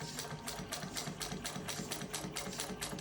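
A Juki 154 industrial sewing machine stitches through leather in a fast, even run of sharp needle strikes, roughly four per second, heard close up and on its own.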